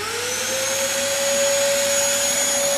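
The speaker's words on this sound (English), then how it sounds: "Connect with the vacuum cleaner." A vacuum cleaner hooked up to a GOCLEAN steamer runs with a steady, close whine and a constant motor hum, alone and unbroken.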